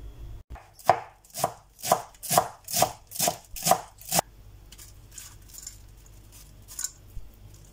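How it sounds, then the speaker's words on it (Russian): A knife finely chopping a bunch of cilantro on a board: about eight evenly spaced, crisp close chops in a steady rhythm, then quieter faint handling noises. "Затем я беру хороший пучок кинзы 50 грамм и мелко нарезаю."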